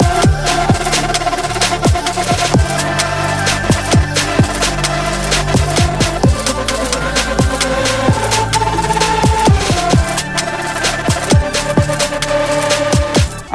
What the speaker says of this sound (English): what you just heard is actually the stutter effect I did for my wavetable synth